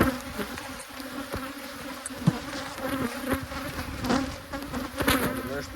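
Honey bees buzzing around an abandoned hive, a dense continuous close hum with individual bees droning past and small knocks and clicks from handling.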